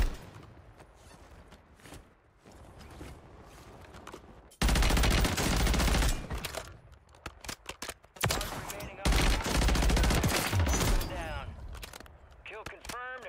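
Gunfire in a Call of Duty Warzone match, loud dense bursts of shots and rapid automatic fire coming in waves, with voices talking between and under the shooting.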